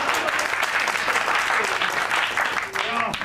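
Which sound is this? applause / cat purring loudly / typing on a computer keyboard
applause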